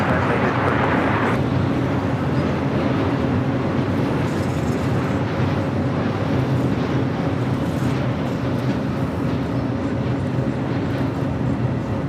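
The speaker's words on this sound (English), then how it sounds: "This is Hawaiian Airlines Flight 62 coming in from Kailua, Kona on the A330-200" A Hawaiian Airlines Airbus A330-200 landing at LAX on runway 25 left makes a steady, loud, broadband jet roar that holds for the whole stretch without a break.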